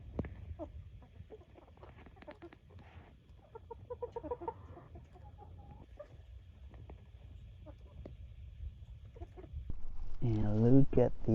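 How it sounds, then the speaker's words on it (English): A flock of chickens clucks on a ranch, with scattered nearby clucks and calls under a voice and a louder, drawn-out squawk near the end over low rumbling background. "These chickens, this is the flock that I have."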